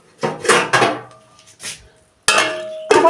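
A metal lid is set on a cooking pot in a home kitchen, giving several sharp clanks and rattles with a brief ringing tone, separated by short silences.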